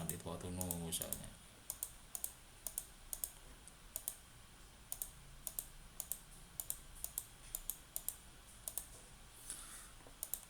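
Lab results are entered on a computer keyboard: crisp, quiet key clicks in irregular bursts, close by, with a brief stretch of speech at the start.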